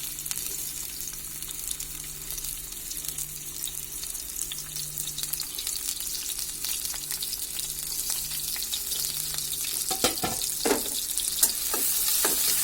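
Chopped garlic and onion fry in oil for a fish dish, a steady close sizzle that grows slightly louder, with a faint background hum and some stirring scrapes and clatter toward the end.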